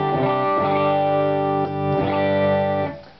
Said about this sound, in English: just does a nice low overdrive